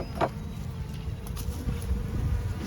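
A low, steady honeybee buzz hums throughout from a weak hive, bees droning close by, with a brief brighter buzz near the start.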